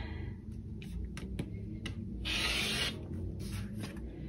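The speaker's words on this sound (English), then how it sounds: "all I'm going to do, as you might expect, is to cut this in half diagonally" Fabric scissors cutting a 5-inch quilting fabric square diagonally in half, heard as close, quiet crisp snips and a longer slicing rasp in the middle, with no talking.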